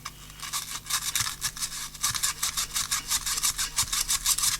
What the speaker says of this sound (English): So this is my quite stiff brush, like a toothbrush in its consistency.